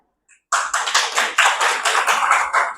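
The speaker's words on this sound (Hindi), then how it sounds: "एक बार जोरदार तालियों के साथ हम आपका तहे दिल से धन्यवाद करते हैं।" After a brief silence, an indoor audience at a teachers' mentor talk breaks into loud, sustained applause, many hands clapping close and dense until the end.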